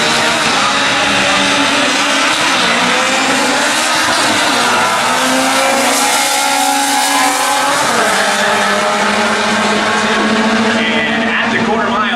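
A drag race car on an 11.50 index time run screams down the quarter mile, its engine loud and continuous with sweeping pitch changes through the gears, the noise close and sustained throughout.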